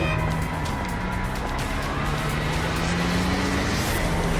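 A cartoon car drives past just before an accident, its engine a steady broadband roar with a faint rising tone. It holds loud and continuous for a few seconds, without voices.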